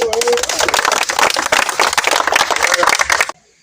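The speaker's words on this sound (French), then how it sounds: "Il faut applaudir aussi pour la presse aussi." Crowd applause for the press after a statement by transport drivers, dense continuous clapping that stops abruptly near the end.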